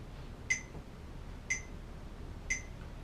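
Three sharp, bright metronome clicks at a steady one-per-second pulse marking quarter notes, clear and close against a faint hiss, with no voices.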